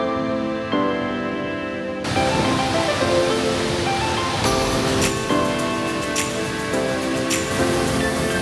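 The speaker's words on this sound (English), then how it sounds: "we stopped at one last waterfall" Steady, dense rushing of a waterfall in Norway fills the whole stretch, with music playing over the roar.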